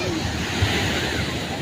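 Ocean surf washing onto a crowded beach where people are swimming, a steady broadband wash with wind noise, loud and continuous throughout.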